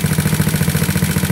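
A GY6 scooter engine runs close by at a steady idle, with a fast, even pulsing throb and no talk over it.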